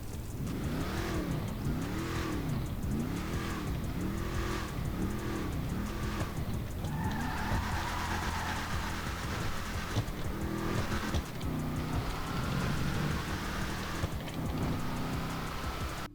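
Gauntlet Hellfire muscle car engine in the video game GTA 5, a loud, close, deep rumble that pulses through repeated revs, then settles into a rougher sustained drone with further surges, alone without talk.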